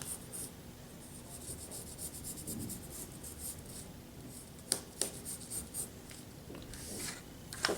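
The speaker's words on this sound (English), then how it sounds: "fold down your pattern, and trace across." A tracing tool or marker runs across a folded sewing pattern on fabric, a faint, continuous scratchy scraping with a few sharper ticks near the end, close and quiet with no speech.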